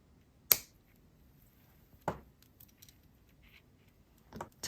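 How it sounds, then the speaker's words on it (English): Excess beading wire is snipped with a sharp cutter, giving a few crisp, isolated clicks spaced apart in a quiet room. "Let me cut off the excess."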